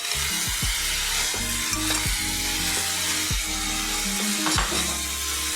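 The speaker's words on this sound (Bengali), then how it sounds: "এখন আমি ভাজা আলুগুলো দিয়ে দিলাম।" Fried potatoes tossed into sizzling spice paste for chenna curry, a loud steady frying hiss punctuated by rhythmic spatula scrapes against the pan.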